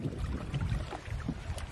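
A boat motor running out on a lagoon near the ocean makes a low, steady, rumbling drone with wind and water noise mixed in, fairly close.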